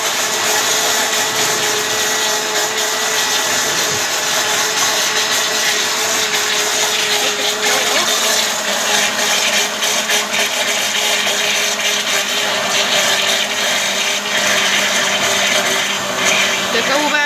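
An electric blender whirs loudly and steadily up close as it mixes a cake batter of oil, sugar, milk and flour, the motor pitch holding constant with faint voices in the background.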